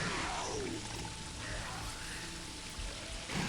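A blood waterfall in the video game Shadow Man pours in a steady, rushing wash, like heavy running water, continuous and fairly quiet throughout.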